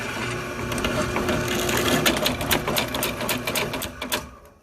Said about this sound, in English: And then I lower my socket, and I start the press.